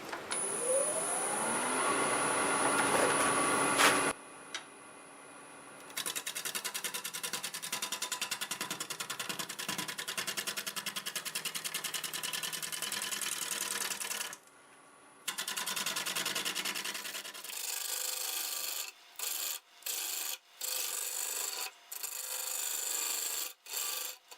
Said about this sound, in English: we'll take a couple of cuts and have a look at it